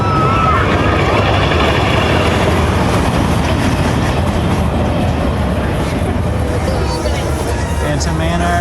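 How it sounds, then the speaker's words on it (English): A train at Disneyland Paris rumbles past in a steady, loud, continuous roar with rolling mechanical noise, heard close against a busy theme-park crowd murmur. "We got a train though."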